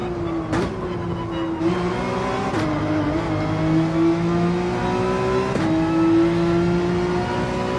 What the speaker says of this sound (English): Gotta rev out this 911.